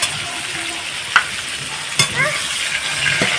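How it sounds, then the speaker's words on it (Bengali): Pointed gourd (potol) frying and being tossed in hot oil, a steady close sizzle broken by a few sharp scraping clinks of the spatula against the pan. "এইভাবে আমি পটলগুলো সব লাভিয়ে নিচ্ছি"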